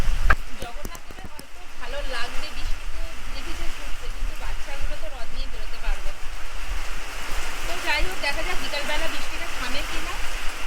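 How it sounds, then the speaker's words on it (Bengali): Heavy rain pours down in a dense, unbroken roar that stays loud throughout, while a voice talks over it. "প্রচুর জোরে বৃষ্টি এসে গেছে"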